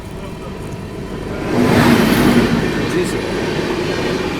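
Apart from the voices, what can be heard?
Lichchhavi Express train arriving at Kanpur Central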